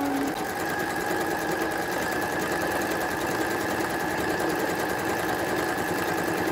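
A sewing machine stitches reusable fabric gift wrap, running in one steady, continuous mechanical whir at close range with no pauses.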